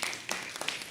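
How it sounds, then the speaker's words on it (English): Audience applause at a conference, a brief dense wash of many hands clapping together, steady and moderately loud. "a round of applause"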